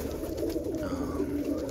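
A domestic pigeon of a yellow roller breed coos softly and continuously nearby, low murmuring calls repeating over a quiet background.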